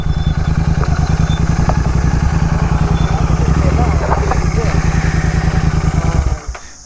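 A Royal Enfield Interceptor 650 converted into a GT 650 runs close by with a steady, thumping parallel-twin throb that holds even for several seconds before cutting off near the end.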